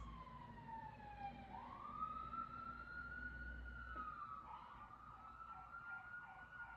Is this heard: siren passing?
yes